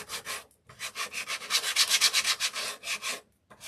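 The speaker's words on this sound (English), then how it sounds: "Give her a light sanding." Light sanding of a small wooden gingerbread girl candle topper: brisk, rhythmic rubbing strokes, close and steady, with a brief pause near the start and a short gap near the end.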